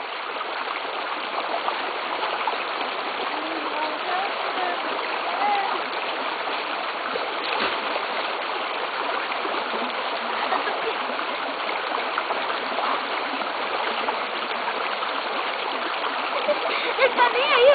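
A dog swims and splashes in a stream, soft splashes over a steady rush of running water, heard at a distance while people chat nearby.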